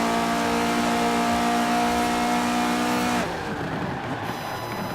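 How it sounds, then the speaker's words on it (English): A KTM X-Bow GT4 race car in Forza Horizon 4 holds a loud, steady high engine drone that cuts off abruptly after about three seconds, leaving rumbling tyre and road noise with a thin squealing whine. "There's a slight squeal on the tyres"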